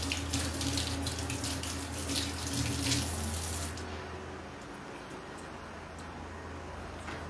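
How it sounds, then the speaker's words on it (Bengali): Water runs from a tap as hands are washed beneath it, a loud steady splashing gush for the first half that then cuts to quieter room noise. "তো হাতটা ধুই।"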